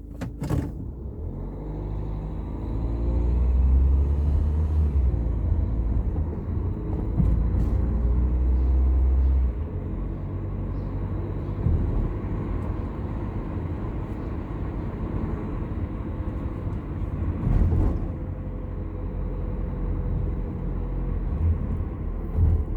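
Steady low engine rumble and road noise from inside a car driving on a road trip toward Kocaeli, continuous and fairly loud, with occasional bumps and no talk.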